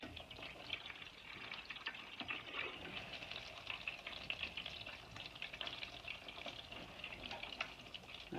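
Gluten-free French toast with bananas fries in a hot pan, giving a steady, faint, even sizzle with no talking over it.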